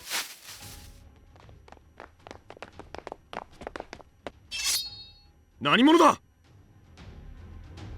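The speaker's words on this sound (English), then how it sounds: "All I heard was footsteps." Footsteps sound effect in an audio drama, a quick run of sharp steps close by, followed by a swishing burst and a loud vocal-like cry near the end.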